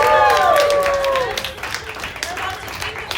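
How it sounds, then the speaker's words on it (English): An audience claps and cheers for an ensemble cast returning to the stage, loud applause at first that fades into scattered claps, with a voice speaking over it. "our ensemble cast back out to the stage. Another round of applause."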